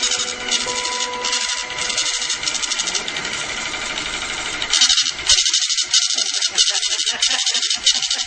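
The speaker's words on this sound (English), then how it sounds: "will now cause the voting machine to print out a tape reading the number of votes that it had just read" A voting machine, one that can be tampered with through its CF card, prints out a vote tally tape, its print head buzzing in a steady mechanical chatter that pulses in short regular bursts in the second half, close and loud.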